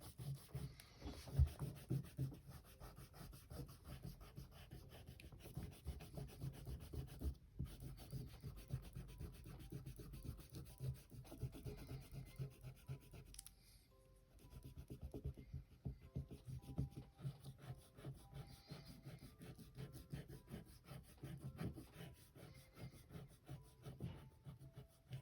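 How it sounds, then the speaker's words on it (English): An eraser rubs out pencil lines on paper during a drawing, making a close, steady scratchy scrubbing of rapid back-and-forth strokes with brief pauses. "any other lines that I can possibly get rid of, I just want to go and erase now"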